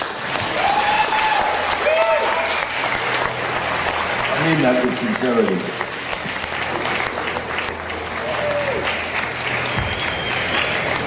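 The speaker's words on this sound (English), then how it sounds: "give yourself a very good round of applause" Audience at a live panel with horror film actors breaks into sustained, loud applause with cheering, a voice speaking over the clapping throughout.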